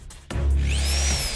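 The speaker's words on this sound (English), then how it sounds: "Power drill!" A power drill whirs steadily for about a second, starting abruptly with a loud motor hum and a rising whine, in a playful pretend dinosaur surgery at home.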